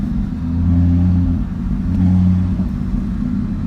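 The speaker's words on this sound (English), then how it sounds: "if I put it in dynamic, there's still absolutely no difference in the exhaust amplitude" The exhaust of a 2016 Audi RS3 in dynamic mode drones with a deep, steady engine note and a slight swell in revs, loud and close with no talk.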